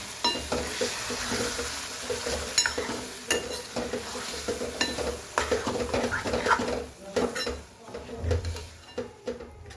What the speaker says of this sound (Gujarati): મગ એડ કરી લઈએ. મિક્સ કરી લઈએ.